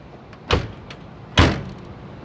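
A door on a Chevy drag car shuts twice, a soft latch click followed about a second later by a firmer, solid thunk, close and alone against a quiet background.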